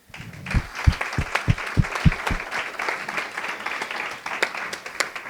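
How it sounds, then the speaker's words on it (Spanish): An audience at a talk gives applause, opening with a few loud, distinct claps that blend into a softer, scattered clapping sound for the rest of the moment. "Pues vamos a dar un fuerte aplauso."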